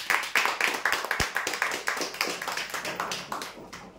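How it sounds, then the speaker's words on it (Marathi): Audience members at a weekly prize-draw event clap in a quick, steady rhythm of sharp, fairly close claps. It sounds like a small group applauding, and it carries on evenly for a few seconds. "जोरदार टाळ्या होण्यासाठी।"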